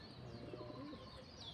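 Pigeons coo softly close by in a park at 5 AM, low throaty calls over faint outdoor ambience.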